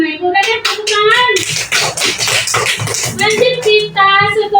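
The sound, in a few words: children clapping in class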